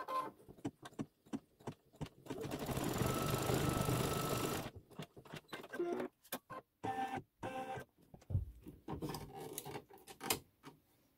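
An embroidery sewing machine runs a placement stitch for a quilt block, buzzing in one dense burst for a couple of seconds, then continuing in short, choppy runs of mechanical stitching nearby.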